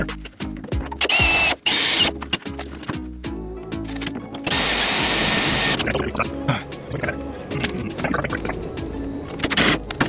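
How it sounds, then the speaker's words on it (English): A power drill bores into the door sill of a 1941 Chevy in bursts, with loud whining spells around one and five seconds among clanks and shop noise; people talk in between. "So, let's just drill it in."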